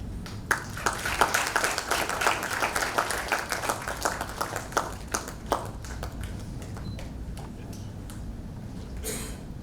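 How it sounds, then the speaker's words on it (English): A room full of people applauds the judges at the Sri Lanka CFA Research Challenge grand final, steady clapping rising and thinning over about ten seconds, with a few sharp taps near the start and end. "a big round of applause, ladies and gentlemen, our judges"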